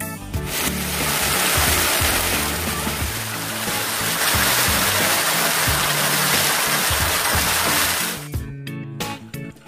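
A waterfall pours at the end of a lazy river ride in a water park, a loud continuous rushing splash close by that cuts off abruptly near the end, followed by brief sloshing.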